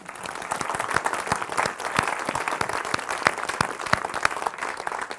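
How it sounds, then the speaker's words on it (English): Lecture audience applauds the navigation team, a steady, moderately loud wash of many hands clapping, sustained evenly for several seconds with little talk. "How about a round of applause?"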